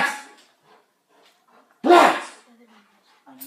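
Police K-9 dog Kato barks once in a loud, sharp burst near the middle, with brief voices and shouting before and after it.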